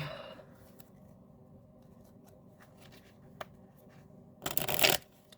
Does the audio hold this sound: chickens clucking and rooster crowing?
no